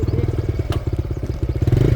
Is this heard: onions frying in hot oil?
no